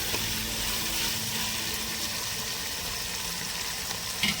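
Ingredients for a village-style chicken gravy curry sizzle and fry steadily in a pan, a continuous close hiss with a faint clink of stirring near the end.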